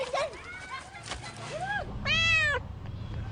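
Stray cats meow repeatedly, with several distinct cries of varying pitch including one long, loud yowl, heard close over faint background noise.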